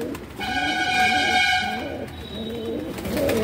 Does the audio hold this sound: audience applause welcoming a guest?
no